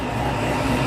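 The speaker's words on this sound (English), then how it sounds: "Dude, that belt whine." Steady engine drone with a constant whine from a car's belt while it runs on a dyno, loud and continuous throughout the short moment with no talk.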